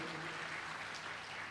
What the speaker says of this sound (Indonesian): Boleh berikan tepuk tangan yang meriah buat Tuhan.